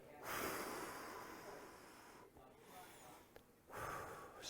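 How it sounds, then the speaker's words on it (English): A person takes a deep breath and blows out hard, as if blowing out birthday candles: a long, breathy exhale that eases off, followed by another sharp burst of breath, close to the mic. "So what you're doing is you're breathing out."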